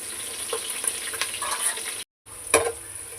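Green chillies and onions frying in a pan give a close, steady sizzle with a few light stirring clicks, a brief cut to silence, then a louder clatter of the spatula.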